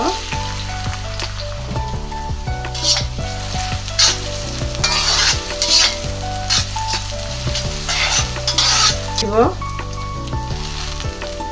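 Softened dried tuna cooking in oil in a pan, a loud continuous sizzle and crackle with repeated scraping stirs of a utensil against the pan, running steadily throughout.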